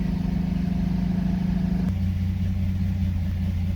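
A 1962 Studebaker Champ truck engine idles while warming up after a cold start, a steady, close, low mechanical hum that drops to a slightly lower, smoother idle partway through.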